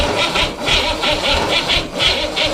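A refurbished Corvair engine cranks over steadily on the starter without firing, a loud rhythmic chugging repeating several times a second, up close and with no talking.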